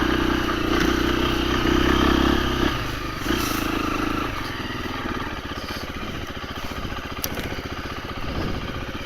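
A 2024 KTM 350 EXC-F dirt bike fitted with a 13-tooth sprocket is ridden in second gear; its engine drones loudly at first, then settles into a lower, steady rattling putter.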